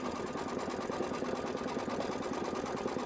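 A sewing machine stitches quilting on a Kimberbell candy corn quilt shop project, running in a fast, steady, continuous mechanical whir throughout.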